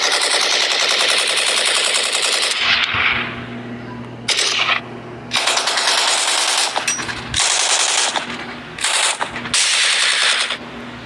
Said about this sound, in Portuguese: eu botei a mão no meu ouvido por causa do barulho das armas